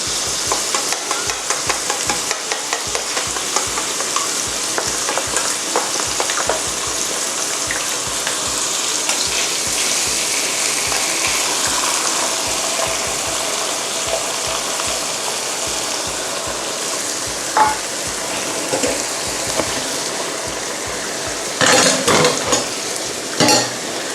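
Eggs sizzle and fry in a wok alongside stir-fried ingredients while a utensil stirs and scrapes with irregular clicks; loud and close, no talking.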